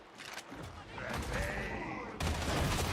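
Gunfire in a chaotic video game battle, with dense, overlapping shots and crackling impacts over steady game noise that jumps louder near the end.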